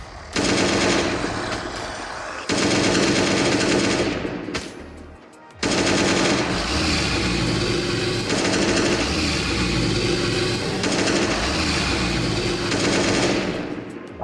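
Rapid automatic gunfire from a gun in the video game Last Day on Earth, loud and sustained in long bursts with a short break midway, no voices over it.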